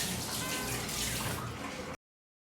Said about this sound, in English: Let me just wash my hands first.